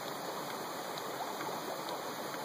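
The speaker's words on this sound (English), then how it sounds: "the water's definitely going inside the Camelback" Water from a Katadyn Hiker Pro filter flows steadily into a Camelback reservoir, a continuous close rushing trickle with no pauses and no talking.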